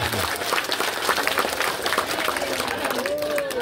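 A crowd at a political rally for a West Manggarai vice-regent candidate claps in a thick, continuous burst of applause, loud and close, with voices calling out faintly through it.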